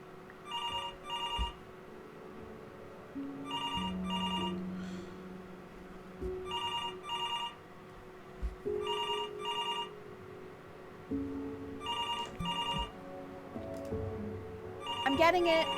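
In the video game Before Your Eyes, a telephone rings in repeated double bursts at a steady rhythm over a low in-game background, continuing for several cycles.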